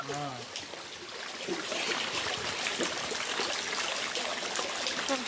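Steady, close rushing of falling water at Penchalakona waterfalls fills the clip, with a voice heard briefly at the start.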